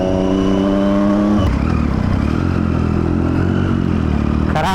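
A superbike accelerates hard, its engine roaring loud and close with a rising whine that drops sharply at a gear change, then climbs again into a strained, buzzing rev.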